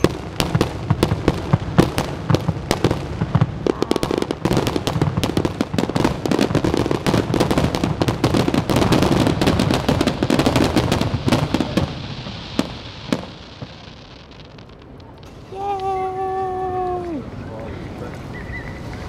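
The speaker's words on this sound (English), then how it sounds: "Your guys' battery lasted for the fireworks." Dense barrage of fireworks crackling and popping in rapid bursts for about thirteen seconds, then fading, followed by people talking.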